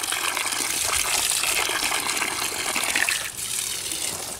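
Water pours steadily into a garden for bees in summer heat, a continuous rushing splash, close by, lasting the whole stretch with no talking.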